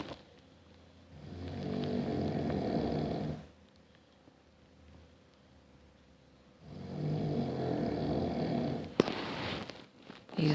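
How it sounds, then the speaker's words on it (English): A man snores loudly in two long, heavy breaths separated by a quieter pause, close and alone, with a brief click near the end. "My husband is snoring."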